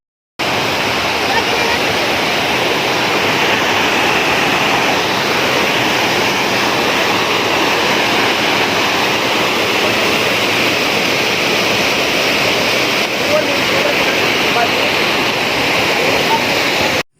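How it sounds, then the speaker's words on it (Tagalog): Can-umantad Falls, a waterfall, roaring as a loud, constant rush of falling water heard close by and unbroken, with no voices over it. "Ito pala ang daan papuntang falls at mapapahinto ka talaga sa sobrang ganda"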